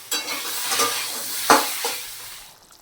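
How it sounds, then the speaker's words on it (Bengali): Fish curry gravy bubbles and sizzles in a pan up close, with soft popping bursts and one sharper spurt midway, fading toward the end. "অলরেডি ঝোল ফুটছে"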